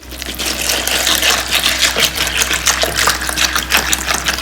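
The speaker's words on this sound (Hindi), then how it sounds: "और ऊपर से डाल देते हैं जी पानी।" Water poured into a bowl of chickpeas set to soak with baking soda, a steady broad splashing gush running loud and continuous throughout, with no talking.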